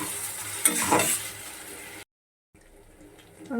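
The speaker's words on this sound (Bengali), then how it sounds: "অল্প কাঁচা লঙ্কা কুচিয়ে রেখেছিলাম সেটাও এর সঙ্গে দিয়ে ভালোভাবে ভেজে নেব" Chopped green chillies frying in hot oil, giving a loud sizzle with stirring scrapes for about two seconds, then a brief silence and a fainter sizzle afterward.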